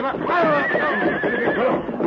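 A horse whinnies loudly and shrilly in an old-time Western radio drama sound effect, with faint hoofbeats and a voice running under it across the two seconds.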